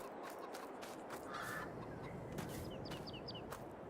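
Chickens clucking in Farming Simulator 22: a few short, higher bird calls sit over a steady, dense wash of ambient game noise, with no talking.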